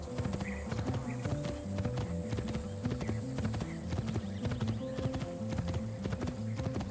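Horse hooves clip-clop at a steady trotting rhythm in Assassin's Creed 2, close and continuous, with a faint whinny and game ambience beneath the beat.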